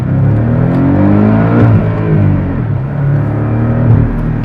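A 2024 Porsche Cayman S pulling away in first gear, its engine a deep, loud rumble rising in pitch as it revs up, easing briefly, then climbing again, heard close from inside the car.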